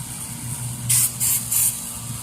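Three short, bright hissing bursts of white spray paint from an aerosol can, evenly spaced over a low steady background hum.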